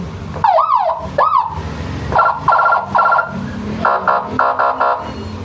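A loud, close police siren on a Yamaha NMAX V3 scooter that cycles through several tones: rising whoops, rapid warbling pulses, then fast chirping bursts.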